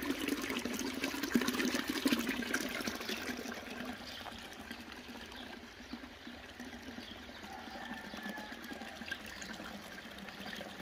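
Irrigation water flowing steadily into a field being prepared for sowing clover, a continuous close rushing and trickling wash that runs throughout with no talking.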